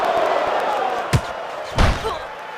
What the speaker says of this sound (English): Pacquiao connects with a hard, vicious haymaker upstairs